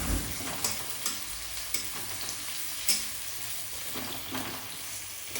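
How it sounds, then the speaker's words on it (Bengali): Chopped onion fries in hot oil for a crab kasha, a steady close sizzle broken by soft scraping stirs, with no voices. "তেল গরম হয়ে গেছে, তো আমার এই পেঁয়াজ কাটা ছিল, এটাকে দিয়ে দিচ্ছি।"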